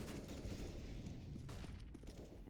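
Grenade explosions from the video game CS:GO during a competitive esports match on the Vertigo map, a dense, continuous low rumble of blasts and gunfire with no clear gaps.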